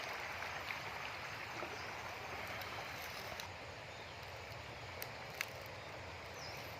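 A stream flowing near a dam in a rural natural setting: a faint, continuous, even hiss of running water, heard from some distance with no other sounds over it.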